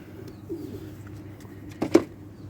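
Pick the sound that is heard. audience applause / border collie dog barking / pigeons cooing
pigeons cooing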